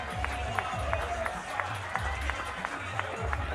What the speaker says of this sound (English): Nice applause for Aryan Patel, who doubled his last trip